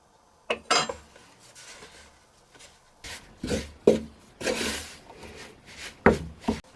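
Flour being mixed by hand into sticky dough for homemade cheese bread, with intermittent scraping, knocking and rubbing against a bowl, in several distinct bursts with quiet gaps between.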